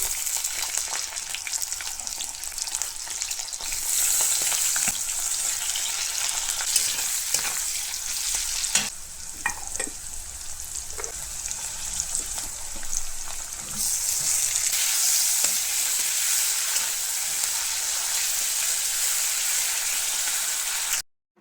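Spice masala fries in a hot kadai for chicken curry, a steady loud hiss and sizzle with occasional stirring clatter, close and continuous with no talk, ending abruptly.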